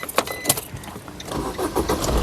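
A Maruti Suzuki Brezza LDi diesel car fires up on a single crank, with a brief clatter of keys before the engine catches and settles into a rougher, steady diesel rumble close by.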